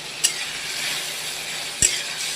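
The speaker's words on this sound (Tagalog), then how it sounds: "Ginagisa ko lang to. Tapos isusunod ko na po itong luya, bawang, sibuyas." Ginger, garlic and onion sautéing in a pan for monggo, giving a steady close sizzle broken by two sharp clinks of a utensil.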